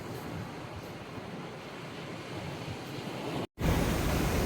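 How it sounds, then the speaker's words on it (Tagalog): Ocean waves at El Nido, Palawan surge with a constant roaring wash, heavy wind buffeting the microphone, ending in a brief dropout and a louder rush. "Grabe, lakas ng alon"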